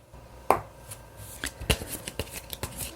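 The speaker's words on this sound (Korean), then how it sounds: "카드를 한번 뽑아보도록 할게요" Tarot cards being shuffled and drawn by hand, a sharp riffle snap followed by a series of light, irregular card slaps and flicks, close and fairly quiet with no talking.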